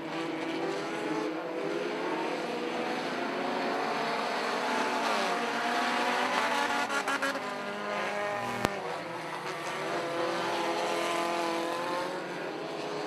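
Pro 4-cylinder division race cars roar past together on the first lap. The sustained, buzzing engine drone is loud and near, and its pitch shifts as the cars speed by.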